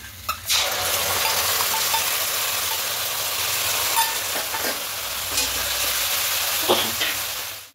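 Soya chunks fry in a pan with sauces added, giving a loud, continuous close-up sizzle with occasional scrapes and knocks of a spoon as they are stirred.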